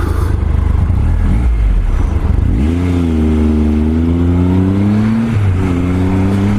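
A big Triumph motorcycle engine runs loud and close while riding, low throbbing rumble that rises in pitch as the bike accelerates, eases briefly, then pulls again; no voices.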